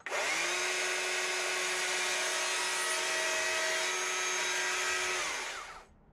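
A chainsaw carving a small wooden tree runs in one long, steady, loud buzz for about five seconds, close by, then cuts off abruptly, with no talking.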